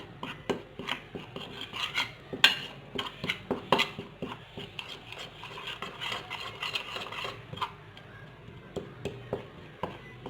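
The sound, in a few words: mixing lemon and sandalwood powder paste in a bowl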